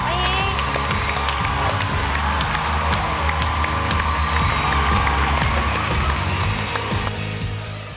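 A studio audience at a Chinese television talk show, Super Interview, cheers and applauds loudly to welcome a singer, with dense steady clapping, whoops and crowd noise carrying on without a break.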